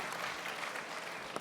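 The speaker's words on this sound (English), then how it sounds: "Big applause for them." A short burst of audience applause at a startup conference, steady clapping from a crowd, fairly distant and even throughout.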